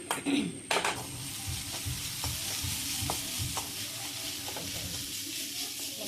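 Onions cooking in a pan for a flower-bud thoran (agathi flower stir-fry), with a steady close sizzle and a series of soft spoon-stirring scrapes and taps repeating through the frying.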